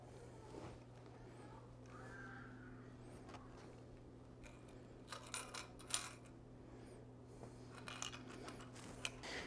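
A stack of coins clinks and shifts with light metallic taps, faint and close over a steady low electrical hum, with a brief cluster of louder clatter partway through.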